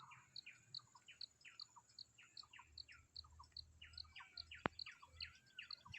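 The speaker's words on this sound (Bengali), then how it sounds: "কিচিরমিচির শব্দ পাখির" Small birds chirp repeatedly in quick, bright bursts over a steady insect hum, outdoors and moderately distant, in the hills near Kurseong and Darjeeling.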